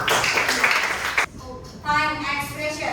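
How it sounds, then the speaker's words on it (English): Classroom applause from students, a dense burst of clapping for about a second, then cut off and followed by a voice speaking. "Give applause for us."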